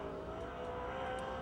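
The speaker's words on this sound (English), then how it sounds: "Scott Gunn, it's a rocket chassis, a Monte Carlo." A dirt late model race car on a Rocket chassis with a Monte Carlo body, lapping at Pennsylvania Motor Speedway near Pittsburgh, its engine a steady sustained drone at some distance with no speech over it.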